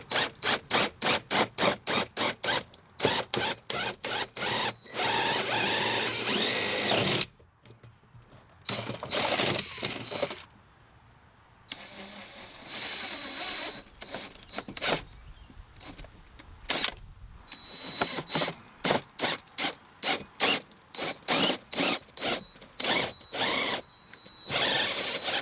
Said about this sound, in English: Whenever I'm drilling these holes, I like to hold back on the drill a little bit